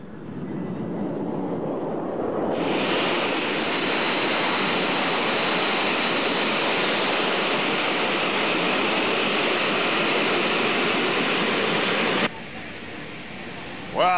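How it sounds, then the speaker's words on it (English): Jet airliners at a busy Southwest Airlines airport near Los Angeles, California, a loud sustained engine roar with a high whine that swells in, holds steady for about ten seconds, then cuts to quieter background. "Now we've come to a busy airport where we're going to see some much larger jet airplanes"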